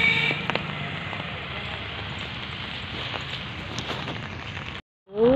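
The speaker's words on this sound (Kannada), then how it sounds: "ತುಂಬ ಮಳೆ ಕಂಟಿನ್ಯೂ" Heavy, continuous rain falls steadily as a dense broadband hiss with scattered patter, loud and unbroken for about five seconds before cutting off abruptly.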